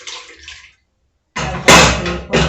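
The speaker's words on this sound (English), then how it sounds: "Rinse this with just water." Water runs from a kitchen tap to rinse something while curry and chapati dough are being made: a silent gap, then a loud, steady gush that keeps going with slight surges. A faint spray-like hiss comes before the gap.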